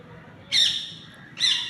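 Two birds call from a rooftop, each a single bright, harsh squawk with a trailing edge, the second following about a second after the first, fairly close and clear over quiet background.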